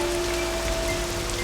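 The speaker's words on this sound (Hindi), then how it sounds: "बारिश हो रही है" Steady rain falling on a surface, a dense even patter with no gaps, alone with no voices.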